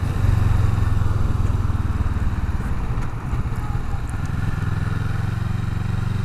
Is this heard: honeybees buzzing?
no